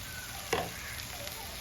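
Ground spice powder stirred and fried in a pan during the browning step of a Sri Lankan Tamil meat curry, with one brief scrape near the start and a faint, steady sizzle beneath.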